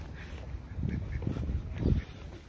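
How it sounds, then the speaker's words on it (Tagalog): Ducks quack in soft, repeated low bursts on a foggy morning in Dubai, heard at moderate distance over a faint steady background hiss. "Mga itik. Itik."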